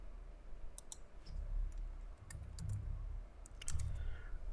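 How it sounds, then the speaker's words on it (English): Keyboard keys and mouse buttons being pressed while entering a 12 choose 5 combination calculation, a handful of sharp, dry clicks in small bursts over a low steady hum, fairly close and moderately quiet. "We can either tab from the keyboard or click in the denominator and enter 12 choose 5."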